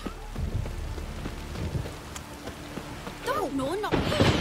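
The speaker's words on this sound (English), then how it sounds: "It's raining." Steady rain hisses through a stormy scene in The Witcher 3, with low rumbling underneath and a brief burst of pitched, warbling sound near the end; voices speak faintly in the background.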